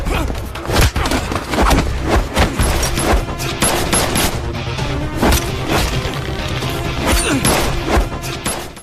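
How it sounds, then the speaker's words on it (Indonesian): Gunfire and blows in a film fight scene, loud rapid bursts of shots mixed with crashes and thuds running continuously. "senjata yang ditembakkan Wuli nyasar ke tubuh Yan"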